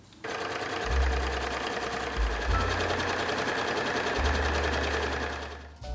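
A sewing machine stitches a skirt hem, running in a steady loud mechanical whir with a fast rhythmic needle chatter, close up, pausing briefly a couple of times and starting again.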